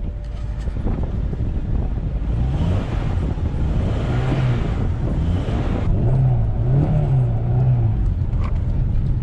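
A Civic Si on summer tires spins its wheels climbing a snowy driveway, the engine revving and droning in steady waves beneath constant gusty wind buffeting the microphone.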